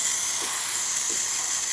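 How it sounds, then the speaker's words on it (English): Steam wand on a serviced DeLonghi coffee machine hisses continuously at full pressure, a loud, steady broadband rush with no talk. "And as you can see now, it's dispensing good amount of steam, working excellent."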